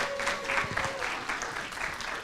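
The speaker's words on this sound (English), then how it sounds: "Give them a round of applause." Audience at a women in skilled trades event applauding to welcome panelists, a short burst of many hands clapping at moderate loudness with some crowd murmur underneath.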